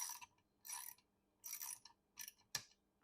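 Ratchet wrench turning bolts on a Yamaha 9.9 HP four-stroke outboard motor, several short bursts of quick clicking with pauses between, close and faint, with no talk.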